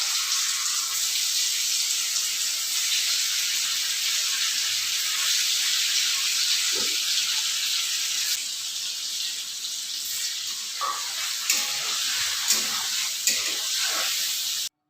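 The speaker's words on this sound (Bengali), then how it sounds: "পনিরগুলো হালকা করে ভেজে নেবো" A steady hiss of paneer frying lightly in hot oil in a kadai runs throughout, with a few faint clinks and taps near the end.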